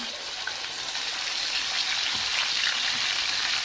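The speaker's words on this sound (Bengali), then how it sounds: "মশলাটা তেলে একটু কষিয়ে নিলাম" Spice paste of ginger, chili, cumin, garlic and a little onion frying in hot oil, a steady crackling sizzle with a few soft taps of a spoon, close and without talk.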